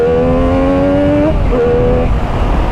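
A Triumph Street Triple motorcycle accelerates hard in first gear with a loud, rising engine whine that climbs steadily, breaks at a brief gear change, then picks up again close by.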